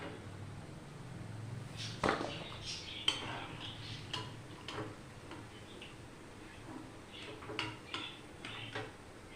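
Fried thekua are lifted out of a pan with light metal clinks and scrapes of utensil against cookware, scattered taps over a quiet background of soft oil bubbling.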